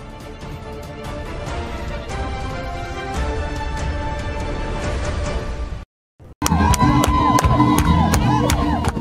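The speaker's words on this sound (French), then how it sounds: "Des chants de louange au Seigneur, renforcés par des cris de joie" A crowd of worshippers in Abidjan cheers and cries out joyfully in a loud, continuous roar, welcoming a pastor with shouts and whoops; after a brief silent cut the cheering resumes even louder with sharp rhythmic claps.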